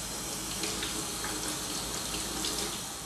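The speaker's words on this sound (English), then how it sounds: "you're going to want to take your peppers over to the sink and just rinse them off really quick" Water running from a sink tap while peppers are rinsed, a steady close broadband gush with light splashing throughout, no talking.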